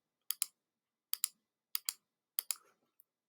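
Buttons on a graphing calculator are pressed to enter a number, giving four pairs of crisp, close clicks at a steady pace with silence between them and no speech.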